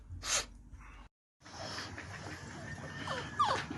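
A dog close by gives a sharp snort or sneeze, falls briefly silent, then breathes and snuffles softly with a small whimpering sound near the end.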